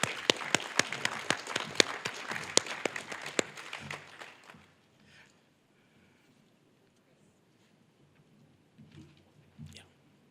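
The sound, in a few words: applause for Chloe at athletics banquet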